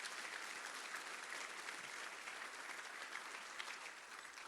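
Audience applause at a city breakfast event, a dense, even clapping from a large crowd that carries on steadily throughout, moderately distant and without speech over it.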